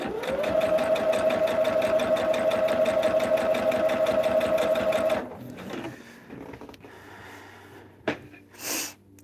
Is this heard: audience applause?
no